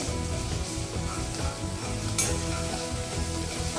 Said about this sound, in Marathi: आलं लसूण पेस्ट घालायची.